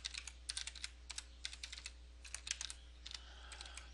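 Rapid typing on a computer keyboard, with clusters of crisp key clicks in uneven bursts and short pauses, close and fairly quiet over a steady low electrical hum.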